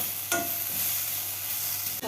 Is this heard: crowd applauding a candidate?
no